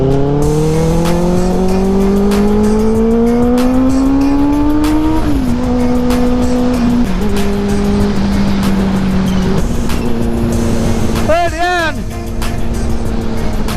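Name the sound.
KTM Duke 390 and Benelli 600i motorcycles racing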